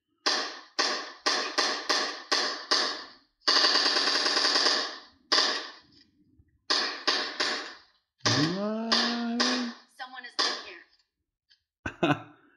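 Rapid bursts of video game gunfire from a tablet, several short rattling volleys and one longer sustained burst, alternating with voices talking and shouting in between.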